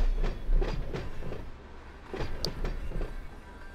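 Train running in the Run8 train simulator near Waycross, heard as a steady rolling rumble with rhythmic clicking wheel beats, fairly close and continuous with no talk.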